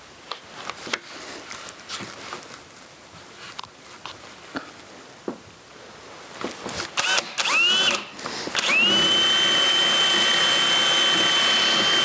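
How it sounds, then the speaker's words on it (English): A worn drill bit bores holes in wood indoors for a ladder build, short bursts of whirring and grinding at first, then a loud, steady high-pitched drill whine running continuously to the end. "I just got to drill 2 holes."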